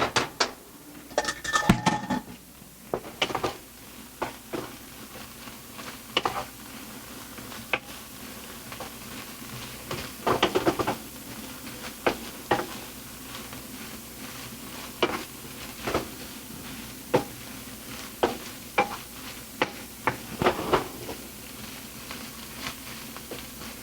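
Rice tipped into a pan and stirred for a wild rice salad, giving a run of intermittent scraping, clattering utensil-on-pan hits and soft rustling, spaced irregularly across the span with quiet gaps between, no voices.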